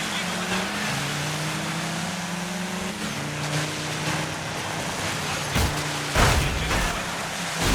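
Rally cars race in DIRT 5, engines droning together in a steady, loud roar with rising and falling tones, and a brief burst of louder engine noise near the end.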